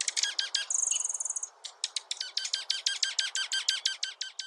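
Juncos chirp in a rapid run of clear, repeated high calls with a brief trill, near and steady against a quiet background, no voices.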